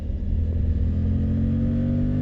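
A Suzuki GSX-8R motorcycle accelerating on the road, a steady, loud, low engine drone that holds strongly throughout, with no speech over it.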